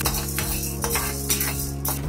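Black-eyed peas (karamani) being dry-roasted in a pan, with soft rattling and scraping as they are stirred, a low steady hiss underneath and intermittent clinks of a utensil against metal, close and fairly quiet.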